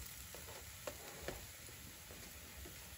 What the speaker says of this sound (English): Now I'm flipping my pancake.